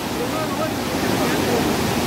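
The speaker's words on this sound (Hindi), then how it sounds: "बहुत तेज भाव है नदी का।" Fast-flowing Parvati river rushing at Manikaran in Kullu, Himachal Pradesh, a steady, loud broadband roar of churning water that fills the whole moment without a break.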